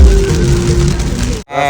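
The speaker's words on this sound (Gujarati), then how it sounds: "તો મિત્રો વરસાદની ગતિ વધી ગઈ છે." Heavy rain pours onto a road during a roadside stop, a loud dense hiss that holds steady before cutting off abruptly near the end.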